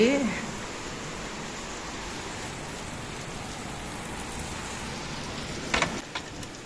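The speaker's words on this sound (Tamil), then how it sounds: "நல்ல மழை வந்துருச்சு" Heavy rain pours down in a steady, dense hiss of drops hitting surfaces. A brief voice is heard at the very start, and a short louder splash or knock comes near the end.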